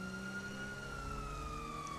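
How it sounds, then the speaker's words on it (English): A police car siren in GTA V wails with a smooth, sustained tone that slowly falls in pitch, loud and steady as a Crown Victoria patrol car cruises. "should I turn siren off?"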